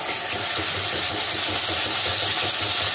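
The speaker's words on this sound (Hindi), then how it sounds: "प्याज को अच्छी तरह से सेक लेंगे जब तक इसका कच्चापन दूर नहीं हो जाता।" Ground onion paste sautéing in a pan along with ground ginger and green chilli, producing a steady, even hiss and soft sizzle with no breaks.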